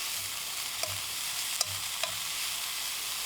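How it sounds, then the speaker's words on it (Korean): Ingredients for rice cake soup, including dried pollack, sizzle loudly in two spoons of perilla oil over high heat, with a steady close frying hiss broken by a few soft stirring scrapes. "팬에 들기름 2스푼, 항태 넣고 센 불로 1분 30초 볶아줍니다"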